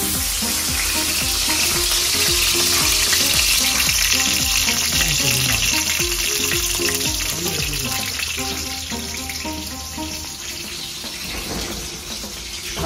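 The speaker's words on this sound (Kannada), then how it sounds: "ಈಗ ಬಿಸಿ ತಂಗಿನ ಎಣ್ಣೆಗೆ ನಾನು ಸಾಸಿವೆ ಹಾಕಿದ್ದೇನೆ." Mustard seeds, garlic and curry leaves frying in hot coconut oil for a Kerala-style sambar, a loud continuous crackling sizzle close up, with clattering and a brief high whine partway through, no speech.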